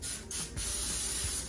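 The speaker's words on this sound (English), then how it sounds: "And then we'll need to spray that with a little oil." Cooking oil is sprayed onto parchment paper in an air fryer basket in two quick, close hissing bursts, then one longer steady spray.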